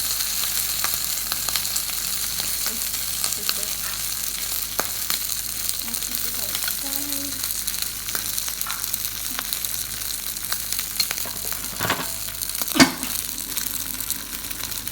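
A piece of beef shin steak fries in a hot pan with a constant crackling sizzle, steady throughout and punctuated by a sharp clatter near the end.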